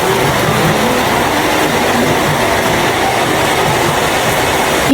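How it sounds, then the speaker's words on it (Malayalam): Heavy rain with strong wind pouring down outside a house, loud enough to drown out a television indoors: a dense, steady, roaring hiss of rainfall that stays unbroken and loud throughout, with no talking. "ഈ കേൾക്കണ സൗണ്ട് മഴയുടെ സൗണ്ട് ആട്ടോ."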